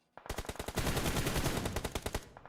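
A rapid automatic spray of gunfire in the mobile battle royale game PUBG Mobile: a loud, close stream of about twenty sharp shots in quick succession, ending in a few spaced final rounds.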